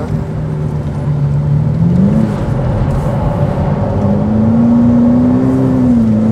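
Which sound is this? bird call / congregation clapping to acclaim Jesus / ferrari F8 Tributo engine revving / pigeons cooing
ferrari F8 Tributo engine revving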